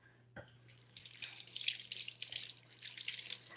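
Food is rinsed under a kitchen tap, and faint running water with soft drips and splashing continues for a few seconds after a small knock, with no talk.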